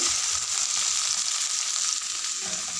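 Okra frying in a pan, a steady, loud sizzle that runs unbroken throughout with no voices.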